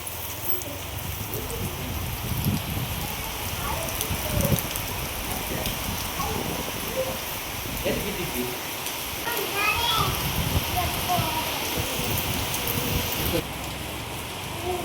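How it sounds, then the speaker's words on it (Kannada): Continuous rain patters over a surface while children's voices chatter faintly in the background. "ಇವಾಗ ನೋಡಿ ಮಳೆ."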